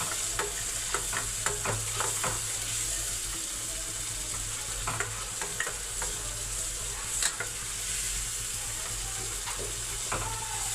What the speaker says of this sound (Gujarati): જ્યાં સુધી તેલ છૂટું ન પડે ત્યાં સુધી આપણે એકદમ મસ્ત મસાલાને તળવા દઈશું